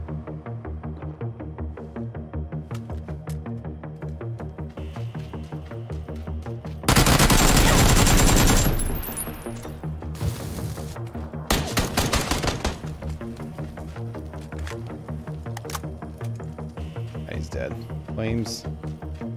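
Gunfire in the battle royale game PUBG: a loud burst of close shots erupts against steady looping background sound, followed by a second shorter volley and scattered lighter pops.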